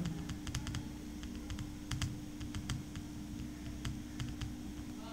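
Keys clatter in quick irregular bursts as someone types into a Word document on a computer keyboard, fairly faint over a steady low hum, with short pauses between bursts and no voices.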